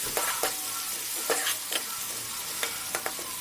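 Cumin, chillies and chopped onion sizzle steadily in a hot pan while a spoon scrapes and stirs at irregular moments, close and fairly quiet, with no talking.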